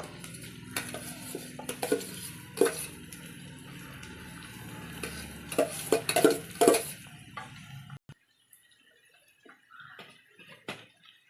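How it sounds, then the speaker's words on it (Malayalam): Biryani rice mixed with raisins, nuts and chicken is stirred in a pot, with a busy run of scraping, clinking spoon-on-metal strokes up close, then a near-silent pause broken by a few faint taps. "ബിരിയാണി റൈസും കിസ്മിസും എല്ലാം ഇട കലർത്തി ഇട കലർത്തി ഇട്ട് നമ്മൾ ഈ ദം ശരിയാക്കി എടുക്കും"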